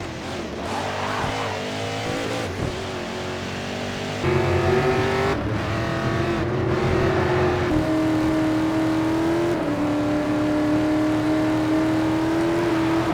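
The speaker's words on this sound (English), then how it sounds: "adding new car engine sounds for a more punchier sound effect" A modded car engine in a racing video game revs hard through several gear changes, each rise in pitch cut by a brief drop, with tyre noise under a loud, continuous drone.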